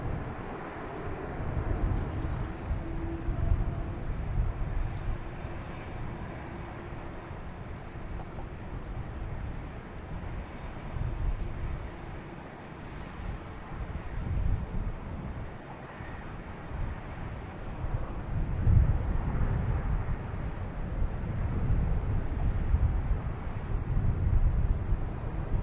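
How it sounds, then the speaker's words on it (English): A United Airlines Boeing 737-900 jet at Boston Logan, bound for Newark, gives a continuous deep engine roar with a broad rumble that swells and eases over time, loud and unbroken, with no voices. "we have United Airlines heading Newark, a 737-900, flight"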